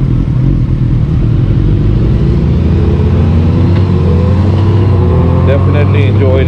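A 2020 Honda GoldWing Tour DCT motorcycle ridden in sport mode, its engine droning loudly and steadily with wind rush, rising in pitch as it accelerates toward the end.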